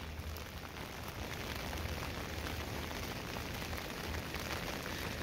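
Steady rain falls on a street during a walking tour in A Coruña, Spain, a dense, even hiss that continues unbroken for the whole stretch with no talk over it.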